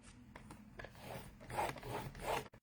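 A scoring tool drawn along Night of Navy cardstock for a card, giving soft rasping rubs that build in a few strokes, faint and close with no talk.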